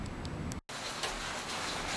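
Heavy rain with big drops, almost like hail, falling outdoors during a thunderstorm: a dense, steady patter of impacts close by, broken by a brief dropout, with no voices.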